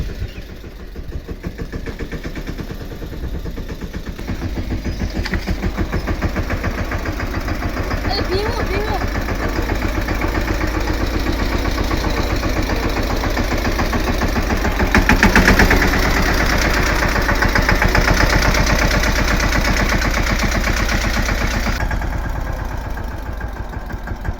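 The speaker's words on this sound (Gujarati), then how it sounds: "અટાણામાં જો ટ્રેક્ટર ચાલુ કરવાનું છે" A tractor engine turns over and settles into a loud, steady chugging idle that continues throughout, rhythmic and close, with a voice occasionally underneath.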